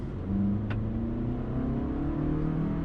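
2021 Toyota Avalon XLE AWD with a 4-cylinder engine accelerating, heard from inside the cabin as a smooth, steady mid-pitched engine hum that rises gently in pitch, with a brief click near the start.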